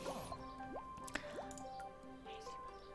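Water poured into a drinking glass, heard as a continuous trickling fill with rising tones and a few drips, fairly quiet and close, with no one talking.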